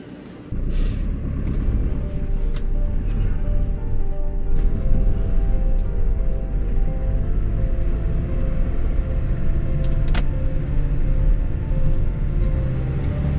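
A car drives along a road in the Beskid Niski hills near Jaśliska, Poland, producing a steady, loud rumble of engine and tyre noise throughout with no one speaking.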